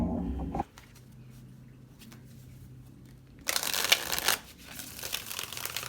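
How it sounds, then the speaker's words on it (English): A deck of cards is riffled and shuffled in a quick crisp burst after a quiet pause, followed by softer handling noise. "I'm going to do one more shuffle."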